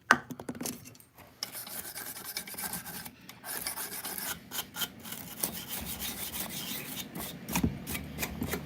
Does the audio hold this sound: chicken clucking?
no